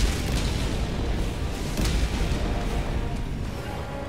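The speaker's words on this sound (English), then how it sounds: "Orbital walking barrage" Orbital walking barrage in Helldivers 2 pounds the battlefield, a dense, continuous low rumble of overlapping booming blasts that stays loud and close throughout without any speech.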